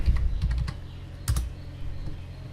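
Computer keyboard typing at a Windows PC while renaming a log file, a short close burst of key clicks followed by a few scattered taps.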